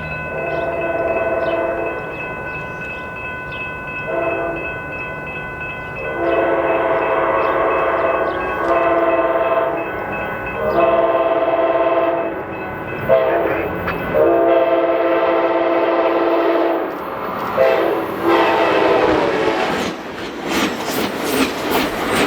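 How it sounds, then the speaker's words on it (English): An Amtrak Cascades passenger train passes close by, sounding its horn in a series of long and short blasts over the rumble and clatter of the cars, building louder toward the end. "we would catch Amtrak Cascades 517 as it made its daily run from Vancouver,"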